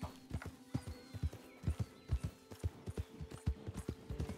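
Horse hooves gallop in Red Dead Redemption 2, a steady, close clip-clop rhythm of sharp thuds heard alone with no talking.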